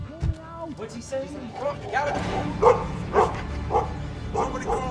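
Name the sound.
dogs barking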